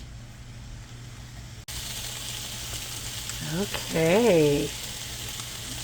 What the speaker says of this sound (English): So the vegetables are finally starting to cook